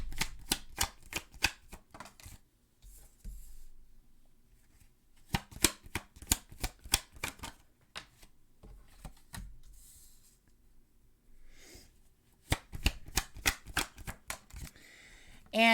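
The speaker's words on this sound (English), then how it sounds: "you want to skip the shuffling the cards out like I'm doing now" Tarot cards are shuffled up close in quick, crisp flurries of riffling and flicking, several bursts separated by quieter pauses, with no one speaking over the sound.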